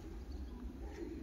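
Pigeons in a racing loft give low, soft cooing that runs steadily through a murmuring background, with no clear separate calls.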